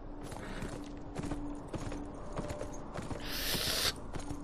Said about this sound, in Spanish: Uy, el caballito.